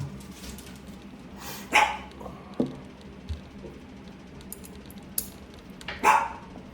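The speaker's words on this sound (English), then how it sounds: "Sorry, that's my dog. He barks a lot." A dog barks indoors during shear sharpening in a workshop, with two loud sharp barks and a few fainter yips and knocks scattered between them, fairly close.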